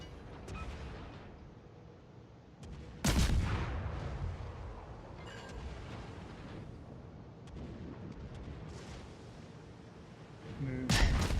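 Secondary guns of the battleship New Mexico fire in a naval warfare game, sharp booming reports at irregular intervals with rumbling tails, a quiet voice talking under the gunfire.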